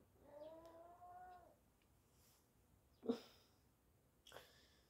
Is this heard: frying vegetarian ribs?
no